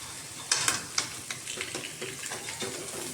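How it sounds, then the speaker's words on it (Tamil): Grated plantain stirred in a frying pan: a steady close sizzle with a few sharp scraping knocks of the spoon early on, then softer stirring scrapes over the continuous frying hiss, no voices. "வாழைக்காயை மிக்ஸ் பண்ணி நல்லா கிளற போகிறாரு."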